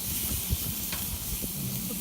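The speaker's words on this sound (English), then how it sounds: "You can hear them sizzling as they go onto the" Steaks sizzle on a grill in a steady, close hiss with faint pops and crackles running throughout, no talking over it.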